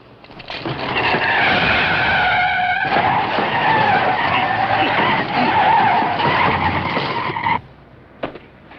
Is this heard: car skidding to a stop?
yes